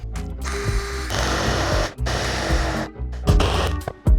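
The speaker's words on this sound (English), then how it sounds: "I'm going to be using this jigsaw to cut around it" A jigsaw cutting plywood buzzes loudly in sustained bursts, cutting off briefly between passes, with harsh high-pitched rattling throughout.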